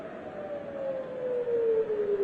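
An air raid siren wails in Jerusalem, a single long steady tone slowly falling in pitch, heard from a distance over low background noise.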